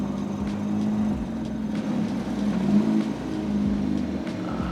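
A Ferrari engine idles with a steady low hum and a few brief rises in revs as the car is slowly driven in, close and continuous with no talk.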